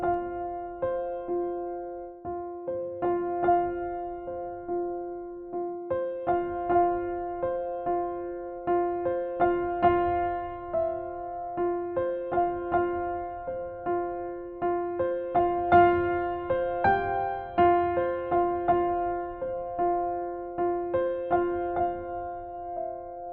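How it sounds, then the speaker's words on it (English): A solo piano playing the Titanic intro theme with the right hand, single notes one at a time in a steady, moderate rhythm with sustained tones, clear and close, no voices. "Play the full intro, the 8 measures, from beginning to the end with the right hand."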